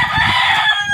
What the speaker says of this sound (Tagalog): Ay, may manok dito.